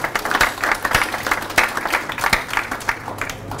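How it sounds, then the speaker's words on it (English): A seminar audience at an agritech event gives a round of applause, steady mixed clapping from many hands, close and sustained throughout. "So I'd like you all to give them a round of applause"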